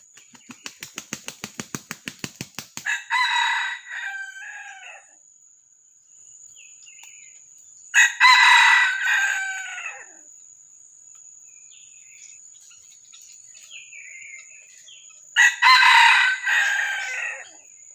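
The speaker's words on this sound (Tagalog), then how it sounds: "Kaso sobrang liit yung tilaok niya" A rooster crows three times, fairly loud and separated by long gaps, while a high insect chirp buzzes steadily in the background.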